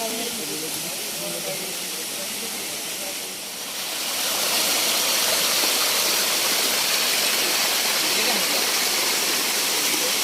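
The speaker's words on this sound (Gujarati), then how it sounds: "આ છે ખુણિયા મહાદેવનો ધોધ" Khuniya Mahadev waterfall at Pavagadh in the monsoon pours with a continuous broadband rushing hiss that swells louder partway through, with faint voices beneath.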